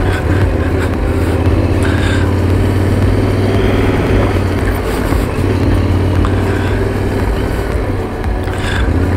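A motorcycle rides along a gravel path in the Drôme countryside, its engine droning steadily and loudly up close with a low rumble throughout, and no talking.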